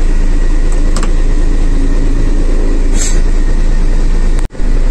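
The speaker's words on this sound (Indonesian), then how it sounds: "di saat saya menyalakan mesin untuk jalan, di sebelah kiri itu ada getaran, nggak tahu getaran apa, itu bising sekali, bunyinya kertek gitu" A Hino 500 truck engine runs loud and steady with a harsh rattling vibration from the left side, a continuous close drone with a brief dropout near the end.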